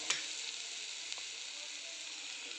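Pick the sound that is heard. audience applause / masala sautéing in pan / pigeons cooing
masala sautéing in pan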